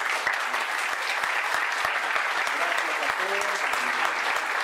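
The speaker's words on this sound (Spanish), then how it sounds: "Otro aplauso para vos." A conference audience at an atheism congress gives sustained, dense applause. The clapping comes from a crowd and holds evenly throughout, with faint voices mixed underneath.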